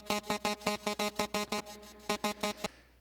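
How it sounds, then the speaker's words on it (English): A mangled lead loop sample for a trap beat, a quick run of short, evenly spaced stuttering synth hits with a brief gap before a few more, clean and fairly quiet with no voices. "don't even know what this is, a lead loop thing,"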